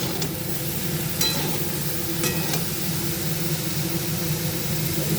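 Eggplant pieces fry in a pan for a Bengali home-cooked dish, producing a steady, even sizzle with a couple of faint utensil clicks and no voices.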